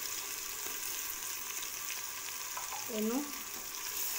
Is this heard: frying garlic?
yes